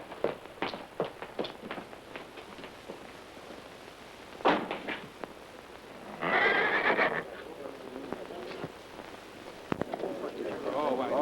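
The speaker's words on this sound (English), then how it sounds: "this beautiful Palomino horse" A Palomino horse whinnies loudly in a long shrill burst at an auction, amid hoof clip-clops, taps and a door-like knock, with voices nearby.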